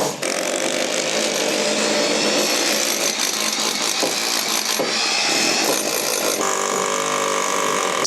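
A power drill roars loud and continuous at a house construction site in Thailand, grinding hard into the surface with slight shifts in pitch, and no voices are heard.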